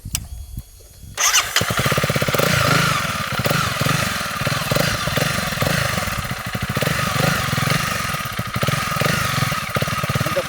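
A Honda CRF300L engine fires up after a second of near silence, then runs with a loud, rapid, thumping single-cylinder rattle and revs unevenly for about nine seconds, close by.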